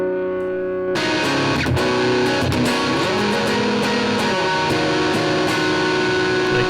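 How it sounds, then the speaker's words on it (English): Distorted electric guitar chords played through an amp modeler, sustained and dense, loud throughout after a brief quieter opening, with no talking. "We'll see the full distortion of this when we go down on the headroom."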